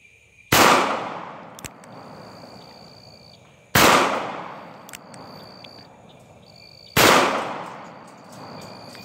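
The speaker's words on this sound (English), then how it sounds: "I'm going to shoot the bucket on top of that little table up there." A Charter Arms Bulldog revolver chambered in .45 Colt fires three sharp, loud shots outdoors, evenly spaced about three seconds apart, each followed by a short echoing decay.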